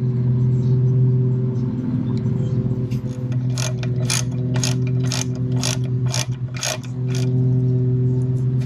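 A ratchet clicks in a quick, even run while tightening the oil drain plug on a Harley-Davidson, crisp and close over a steady low mechanical hum.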